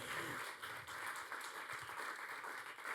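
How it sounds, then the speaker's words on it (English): An audience applauds a conference panel on embedding WOPs into development programmes, a continuous faint wash of many hands clapping, even and sustained with no speech over it. "So big round of applause to the panel."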